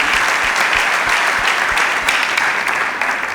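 Loud, sustained clapping from a comedy show audience in France, a thick continuous roar of many hands with some individual claps standing out, steady throughout.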